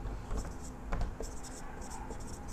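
Marker or chalk writing out a Class 10 maths problem, short scratchy strokes in quick bursts, close up, with a teacher speaking Hindi around them.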